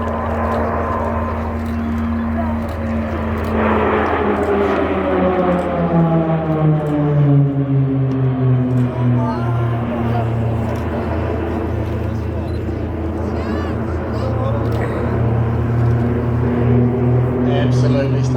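RNZAF aircraft pass in formation at the Warbirds over Wanaka 2024 airshow, a loud sustained engine drone with pitch sliding downward as they fly by, steady throughout with an announcer talking over it.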